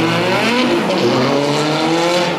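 A Ferrari and a Ford Focus racing at a speedfest event, with a loud, steady engine roar and rising whine as the cars pass, sustained at close range without pause.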